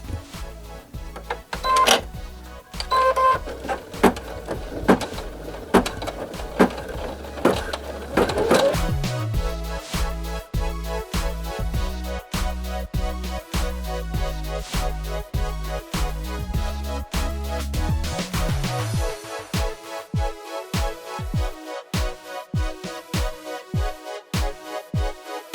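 An embroidery machine stitching felt onto a hoop to make feltie sheets, a rapid mechanical clatter with shifting rhythm and pitch, then a run of evenly spaced fast thumps toward the end, loud and close throughout with no talk.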